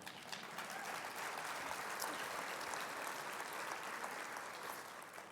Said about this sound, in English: Yeah, I love that you're clapping.